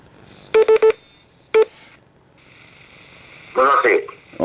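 Telephone keypad tones beep in a quick series of three, then a single tone, followed by a ringback tone and a burst of a voice answering on the line.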